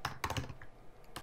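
Close, crisp keystrokes typed in a few quick bursts on a computer keyboard with short pauses between them during iOS coding work, no speech.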